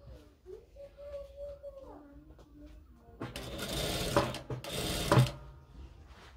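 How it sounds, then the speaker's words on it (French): A sewing machine stitches a jilbab cape hem along the overlock edge in two close, loud bursts after a stretch of quiet mechanical clicking and handling. "Je suis en train de coudre là, sur le surjet."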